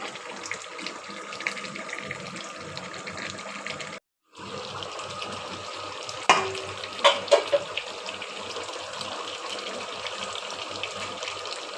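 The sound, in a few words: beef being sautéed (kosha) in a pot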